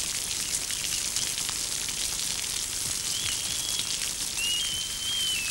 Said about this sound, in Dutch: De regendruppels glijden van hun waterdichte verenpak.